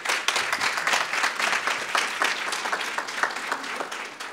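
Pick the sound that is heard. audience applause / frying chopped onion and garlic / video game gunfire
audience applause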